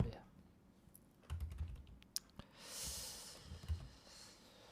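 Bursts of typing on a computer keyboard, sparse clicks and quick key runs with breathing and a snort between them, quiet and close.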